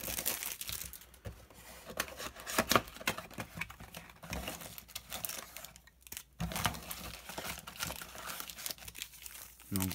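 Pokémon card packs from mystery power boxes being torn open, giving close crinkling, ripping foil wrapper noise in bursts with small pauses between.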